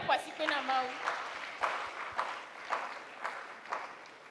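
A church congregation clapping together in a steady, even rhythm, fairly faint and a little distant, with a brief voice at the start.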